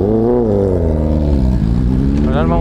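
A Honda CBR1000RR-R Fireblade engine at a racing circuit, a loud continuous rumble with a steady, slightly wavering pitch throughout, with some voice likely mixed in.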